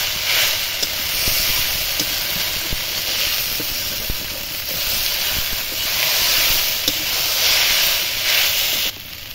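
Taro stolons (kochur loti) fry in a pan with a steady, loud hiss of sizzling, broken by small scattered pops and crackles throughout.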